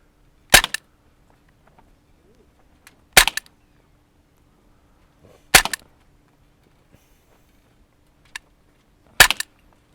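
Umarex CO2 air pistols, including an M29 revolver, fire on an outdoor backyard range: four sharp, dry cracks spaced about two to three seconds apart, close and crisp against near silence.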